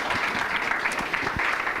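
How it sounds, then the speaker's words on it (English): Brief round of applause from the audience at a member meeting about virtual reality and architecture design, a short burst of scattered clapping heard at moderate distance. "another round of applause for these guys for opening up their place to us"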